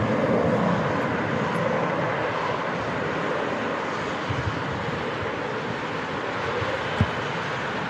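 Jet airliner inbound from Dublin on approach to Manchester Airport in strong crosswinds, a steady broadband engine roar holding at moderate distance throughout, with no talk.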